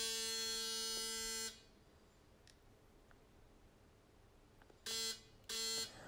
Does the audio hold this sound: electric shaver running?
yes